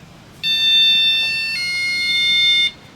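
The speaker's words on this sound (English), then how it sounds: "It's an alarm system that we have now in the 21st century that will allow us to know that you're at the door" An electronic door alarm at White Ladies Priory sounds a loud, steady two-part tone, a bright high note shifting pitch midway and lasting about two seconds before cutting off, with no voices.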